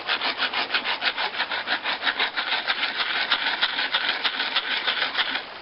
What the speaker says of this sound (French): si on frottait le bord de la canne sur quelque chose de plat, une pierre plate